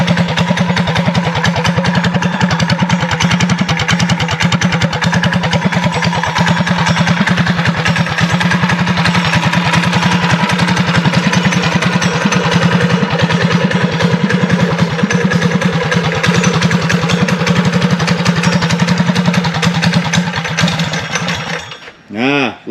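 An MB200 mini bike engine idles steadily while warming up on a beach ride, a loud, close, rough putter that runs unbroken before cutting off abruptly at the end.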